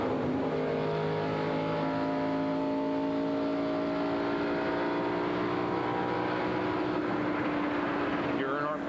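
Onboard a NASCAR stock car racing at Indianapolis in 1997, the engine holds a loud, steady high drone with a brief shift in pitch near the end, heard alone without talk.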